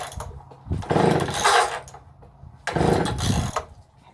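A McCulloch chainsaw is pull-started cold with the choke off, giving two loud bursts of rough cranking and sputtering, each about a second long, separated by quieter pauses.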